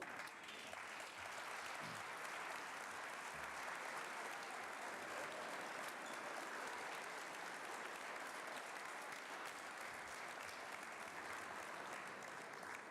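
A large audience applauds a men's basketball team in a hall, dense continuous clapping that stays even and fairly distant throughout, with no voices standing out.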